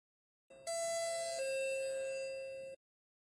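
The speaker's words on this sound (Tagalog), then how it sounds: "Someone rang the doorbell." A cartoon doorbell rings once with a bright two-tone chime, loud and close, its second tone ringing on and fading over about two seconds with no talk.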